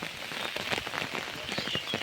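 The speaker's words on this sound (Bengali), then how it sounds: "হচ্ছে বৃষ্টি" Light morning rain falls outdoors with a soft, steady patter of drops on surfaces, gentle and continuous with no voices.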